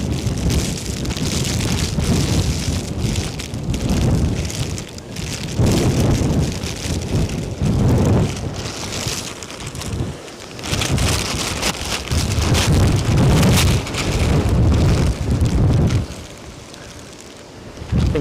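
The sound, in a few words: storm wind and rain at Edinburgh Airport, Storm Floris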